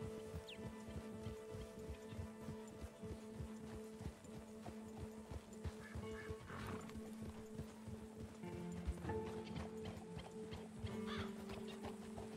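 A horse gallops in Red Dead Redemption 2, its hooves clip-clopping in a fast steady rhythm close by, with a brief whinny and faint game ambience underneath.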